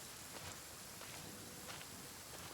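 Rain in Genshin Impact makes a steady, dense hiss without pause, with faint footstep-like rustles under it and no voices.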